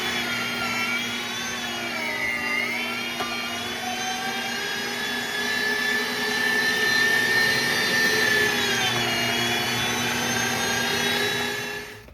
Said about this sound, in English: Well, let's grind this up. Okay. The grinding has begun.